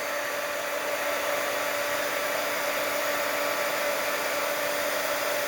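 A heat tool blows steadily to melt embossing powder, producing a constant, close, loud whooshing hum with a faint tonal whine that holds unchanged throughout.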